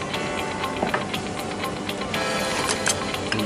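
A fishing line spooling machine winds line onto an empty reel spool with a steady mechanical whir, broken by small rapid ticks and clicks, close by and without talk.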